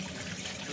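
Tap water runs steadily and softly as hands are washed in a kitchen sink, a brief, even trickling stream.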